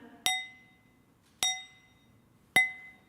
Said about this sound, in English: You put stuff in the bowl and you try to chime it